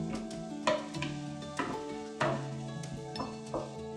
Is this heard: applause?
no